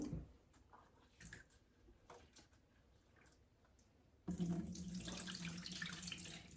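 Water splashes and sloshes softly as soaked grains are swished and rinsed, then a tap gushes loudly into a sink, close by.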